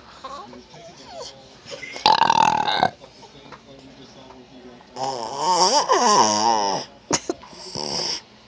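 Several throaty burp-like sounds, one short and two longer drawn-out bursts, traded back and forth with people talking between them.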